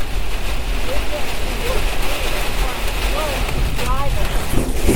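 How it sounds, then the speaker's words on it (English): Torrential rain and high winds batter a car driving into Port St. Lucie, Florida, making a steady, dense roar of rain and wind noise that continues without a break. "Torrential rain as we're coming into Port St. Lucie."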